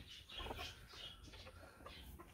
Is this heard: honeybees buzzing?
no